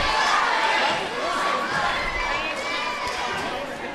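Steady crowd roar and chatter filling a packed gym during a high school basketball rivalry game, a continuous wash of voices and shouts with some play-by-play talk over it.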